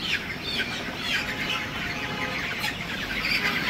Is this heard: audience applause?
no